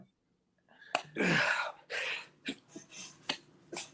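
A single sharp, breathy sneeze bursts out close by, followed by soft whispery breaths and small mouth sounds.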